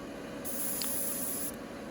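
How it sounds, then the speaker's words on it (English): Iwata HBB PCS Eclipse airbrush spraying paint at 40 psi: a bright, steady hiss starts abruptly, holds for about a second, then cuts off, close-up over a faint background hum. "Spraying at 40 psi with an Iwata HBB PCS Eclipse"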